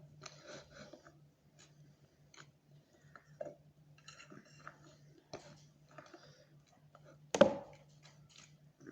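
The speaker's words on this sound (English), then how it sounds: "we're gonna go ahead and mix all this together" Devil's food cookie dough being stirred together in a bowl: soft, scattered scrapes and light clicks from the utensil, with one sharper knock near the end.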